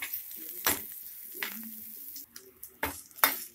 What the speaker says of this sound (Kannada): ಕರ್ಬೇವ್ ಹಾಕ್ತಾ ಇದೀನಿ ಇದು ಚೆನ್ನಾಗಿ ಫ್ರೈ ಮಾಡ್ಕೊಳ್ಳಿ ಕ್ರಿಸ್ಪಿ ಆಗೋವರೆಗೂ